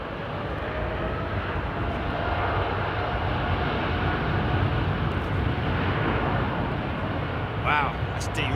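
An airliner at London Heathrow Airport roars steadily, a broad continuous jet engine rumble holding for several seconds while people talk nearby.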